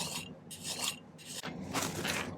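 A hand file rasps across a silver piece being flattened and straightened for a pendant, with several close, rhythmic scraping strokes separated by brief pauses.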